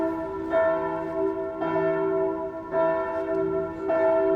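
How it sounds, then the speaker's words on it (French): Church bells peal for a burial in Marolles-les-Brault, a steady sustained ringing with swells of fresh strikes about once a second, loud and unbroken without any voices. "il y a là, les cloches, voilà, pour la sépulture"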